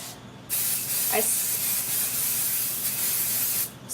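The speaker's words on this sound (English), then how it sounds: "I come back to my beloved 505" Temporary fabric adhesive (505) sprayed onto the back of an embroidered appliqué piece: one steady aerosol hiss lasting about three seconds, close and fairly loud, with a short pause before it.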